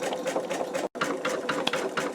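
An embroidery machine stitches around an in-the-hoop wallet with a steady, rapid mechanical whir of needle strokes, close and even, broken by one brief pause in the middle.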